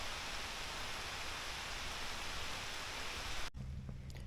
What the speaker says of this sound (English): Started raining pretty good now.